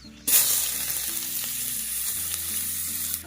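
Chopped onion hits hot oil for tempering in a village kitchen on a wood-fired chulha, a sudden loud hiss erupting after a brief quiet start, then settling into steady close sizzling that carries on throughout.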